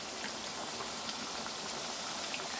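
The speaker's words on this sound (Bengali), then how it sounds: "এবার মিডিয়াম আঁচে একে একে নিমকিগুলোকে ছেড়ে আমি ভেজে নিব।" Nimki snacks deep-frying in hot oil over medium heat, a steady soft sizzle and bubbling with scattered tiny pops, even and fairly quiet throughout.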